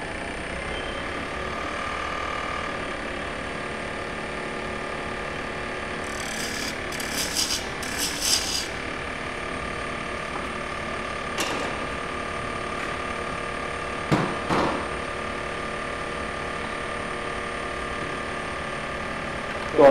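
A spindle gouge cuts wood on a spinning lathe while a tapered triangle box is turned, giving a steady low scraping hum with a few brief louder rasping bursts, fairly faint throughout.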